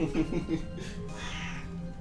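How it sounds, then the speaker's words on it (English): A house cat meows close to the microphone in a few short, soft calls, with a faint voice mixed in underneath. "Cat says hi, everybody"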